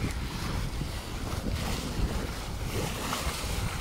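Rushing, splashing water streams steadily along the hull of a sailboat running under motor and sail at sea, with wind buffeting the microphone throughout and no voices.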